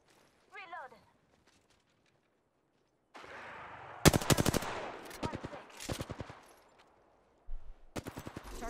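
Apex Legends gunfire in a solo match: bursts of rapid automatic shots crack loudly in clusters after a quiet stretch, with a short voice line near the start and further volleys toward the end.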